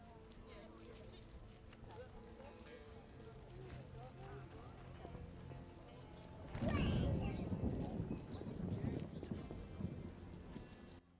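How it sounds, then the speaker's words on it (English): Rain patters through The Witcher video game world, then a loud roll of thunder bursts in partway through and rumbles on, while someone talks over the game sounds. "Really raining."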